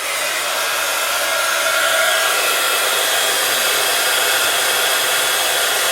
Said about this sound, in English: you just want to grab your heat tool and just turn that on.